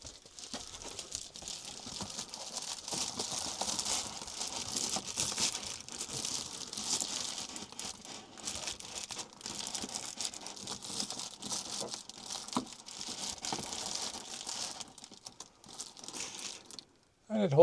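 A piece of Reflectix insulation is pressed into an RV bathroom vent opening, giving a steady, close crinkling and rustling of foil that goes on for several seconds and ends in a louder rustle.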